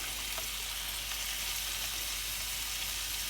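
Bottled lime juice goes into a kale and chorizo hash frying in a pan, giving a steady, close sizzle of hot oil that holds evenly throughout with no voices.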